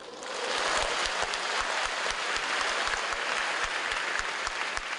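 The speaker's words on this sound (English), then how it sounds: "It's not often, actually, at academic conferences that you do hear spontaneous applause." Spontaneous applause erupts from an audience at a machine learning conference in China, swelling within the first half second into a thick, rain-like wash of clapping with distinct nearby hand claps punctuating it.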